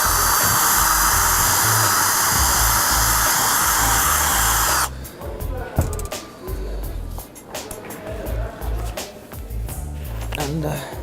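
A power drill bores through the plastic headrail piece and tilt rod of a sloping vertical blind, giving a loud, steady, close whine for about five seconds before cutting off abruptly, followed by quieter handling noises.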